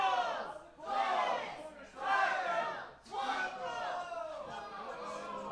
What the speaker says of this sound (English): Bilingual crowd here in Paulsboro.